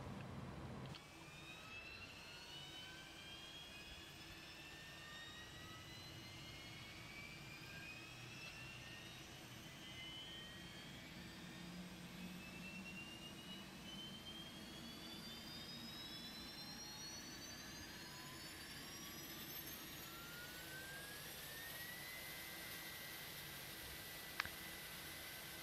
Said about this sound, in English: Fire up the APU.